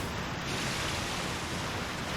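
Steady broadband rush of a waterfall in the video game Okami, a dense continuous roar of falling water, even in level and alone with no voices for about two seconds.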